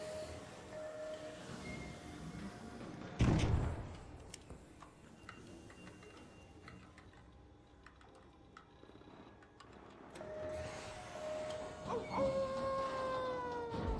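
A howl from the video game ARC Raiders rises and falls in two drawn-out tonal calls separated by a brief thump, heard over a low background rumble with no talking.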